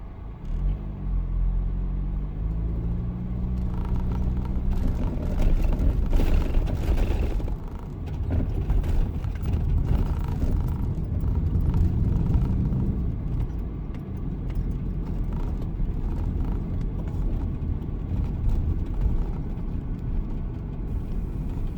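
A car drives along a road past an industrial chemical plant in Isesaki and Ota, Japan, giving a steady close interior engine and tyre rumble throughout, with no one speaking.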